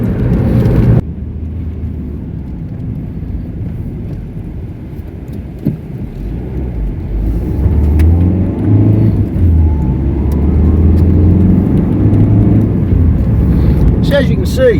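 A 2015 Ford Fiesta 1.5 diesel hatchback driving on twisty B roads, with steady engine drone and road rumble from inside the cabin, rising a little as it pulls harder midway.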